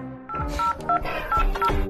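Telephone keypad dialing, a rapid series of distinct DTMF button tones, each short beep separated by brief gaps, clear and close, with no speech over them.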